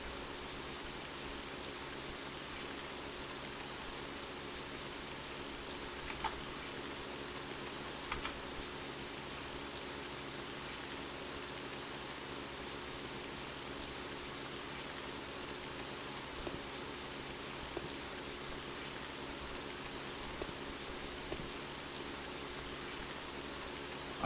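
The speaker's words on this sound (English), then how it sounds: "Oh, it's raining." Steady rain in the tactical video game Silent Storm, a continuous soft hiss of drops on surfaces that stays even throughout, with a few faint clicks and no talking.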